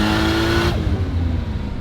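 An 800whp BMW E30 with a 2JZ engine swap pulls hard in second gear, heard loud from inside the car; the engine note climbs steadily, then breaks off abruptly as the next gear is grabbed.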